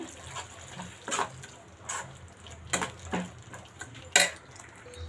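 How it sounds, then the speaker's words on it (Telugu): A spoon stirs gram flour into pea curry in a metal pot, giving a series of scraping clinks and knocks spaced about a second apart, close and moderately loud over a faint background hiss. "అది వేసేసి ఒకసారి కలిపేద్దాము."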